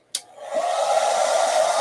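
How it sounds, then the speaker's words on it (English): A blow dryer switches on after a brief click and runs steadily at close range, a smooth continuous whoosh of air holding level to the end. "here comes the blow dryer"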